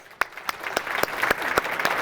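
Audience applause at a hypnosis and sales seminar: a small scattering of sharp, evenly spaced claps, fairly close and steady over two seconds, with no voices.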